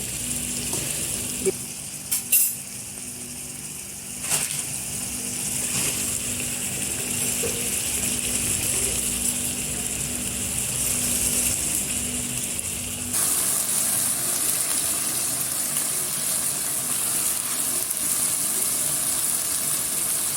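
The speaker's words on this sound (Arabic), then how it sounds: "نزلت زي ما قلت لكم الفلفل اهو، هقلبه برده تقلبتين مع البانيه" Peppers fry in a pan with breaded pieces, a steady close sizzle broken by a few scraping knocks of stirring early on, the hiss continuing evenly throughout.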